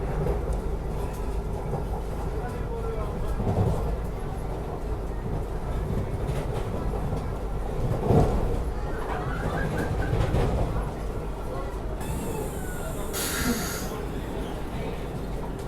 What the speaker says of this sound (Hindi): 120 की रफ्तार में ओवरटेक कर रही थी गाड़ी, और अभी ओवरटेक करते करते स्लो डाउन हो रही है।